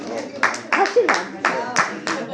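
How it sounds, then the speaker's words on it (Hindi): A few people in a literary gathering clap in bursts, five or six spaced sharp slaps spread over two seconds with a voice murmuring underneath. "जोरदार तालियां एक बार।"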